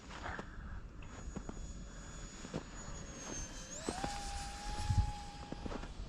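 A small model airplane drones through the air with a steady whine that rises in pitch partway through, heard at moderate distance over wind and outdoor noise.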